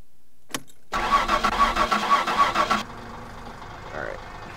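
Car engine in the game My Summer Car: a click, then the starter cranks in a rhythmic chugging for about two seconds before the engine catches and settles into a low, steady idle.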